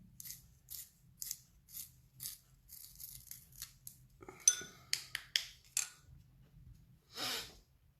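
A 4B drawing pencil is sharpened by hand, giving a series of quiet, rhythmic scraping strokes close to the microphone, followed by a few louder, quicker cuts and a brief rustle, with no talking.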